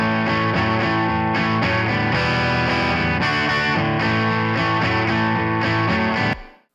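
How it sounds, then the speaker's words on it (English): Distorted electric guitar through an amp, close-miked with a Shure SM57 pressed right against the speaker, playing a dense, loud sustained riff with steady chord changes for about six seconds before cutting off abruptly. "So this was recorded with the SM57 right up against the guitar amp."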